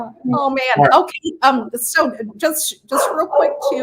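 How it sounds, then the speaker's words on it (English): A pet dog barks and yips in sharp repeated bursts close by, cutting in and out of a person talking indoors during a whiskey blind tasting. "My apologies for my dog going nuts."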